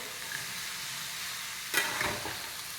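Vegetables frying in oil give a soft, even sizzle, then a sudden louder burst of hissing and scraping as they are stirred in the pan, brief and close with no voices.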